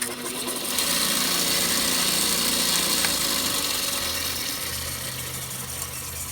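A belt grinder in a home workshop runs with a continuous, close mechanical whir that swells early and holds steady, then eases slightly toward the end.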